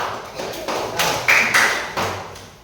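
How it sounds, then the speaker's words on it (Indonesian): Classroom pupils clap for a group in a short burst of several hand claps, close and fairly loud, fading out toward the end. "Ya, tepuk tangan untuk kelompok 3."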